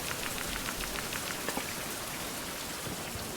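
Rain falling in the 16th-century survival video game Survival: Fountain of Youth, a steady, dense hiss of drops pattering on surfaces, even and continuous with no talk.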